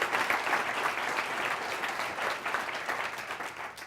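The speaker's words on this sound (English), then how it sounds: "Can we have a round of applause for the students who are here with us?" Audience in a lecture room claps for students present, a brief, fairly even round of applause heard at a distance and fading slightly toward the end.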